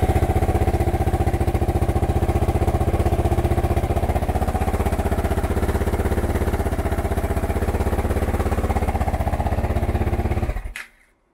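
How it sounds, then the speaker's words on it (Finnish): A Kotari moped's small engine runs with a steady, fast buzzing idle close by for about ten seconds, then cuts off abruptly near the end, leaving silence. "Ja nyt täytyy vaan kokeilla, että lähteekö mopo vielä käyntiin."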